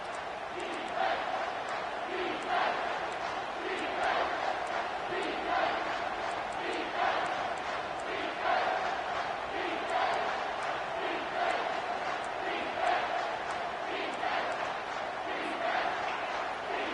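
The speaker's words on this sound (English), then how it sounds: "Decibels rising as the crowd gets behind this defense on third down" A stadium crowd at a football game roars steadily for the home defense on third down, a dense, sustained wall of cheering with swelling surges throughout.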